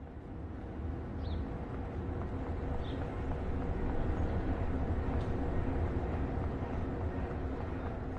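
A train in a video game rumbles along steadily, a continuous low rolling drone with faint clicks and a couple of brief high squeals, no voices.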